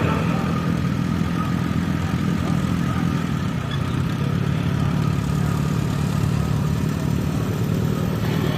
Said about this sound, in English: Number 65 is a 1949 Alice Chalmers Model WF, owned by Andrew Brand